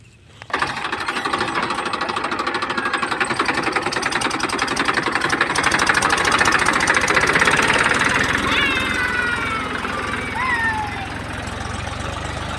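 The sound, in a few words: tractor engine running while ploughing a field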